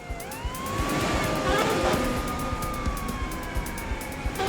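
Police sirens wail close by, their rising and falling tones sweeping over a steady rumble of traffic and vehicle noise.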